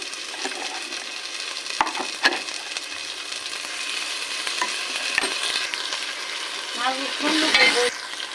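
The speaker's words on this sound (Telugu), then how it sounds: "ఇప్పుడు మసాలా కూడా బ్రౌన్ కలర్లో వచ్చేటట్టు ఫ్రై చేసుకోవాలి" Ginger, garlic and coconut paste masala fries in a pan for mutton dum semiya, giving a steady sizzle under scraping and stirring strokes of a spoon, close and continuous with no talking.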